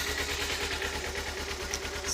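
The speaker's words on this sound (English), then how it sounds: "you can see it's idling low right now until it warms up" Kawasaki Ninja motorcycle engine, from a 2013 Ninja 650 versus Ninja 250R comparison, idling low just under 1,000 rpm while still cold, a steady, faint rumbling putter with a constant hiss and no voices.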